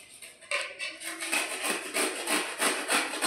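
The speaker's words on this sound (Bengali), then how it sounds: "এবার আমি এই পটলগুলোকে ঠিক এইভাবে ঘ্যাস না দিয়ে ঘষে নেব।" Pointed gourds (potol) scraped by hand to remove the skin, a close, rhythmic rasping rub that repeats in quick strokes and grows steadier after the first second.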